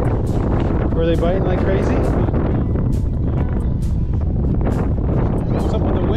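Wind gusts across a frozen lake during ice fishing, a steady rough roar buffeting the microphone throughout while people talk over it.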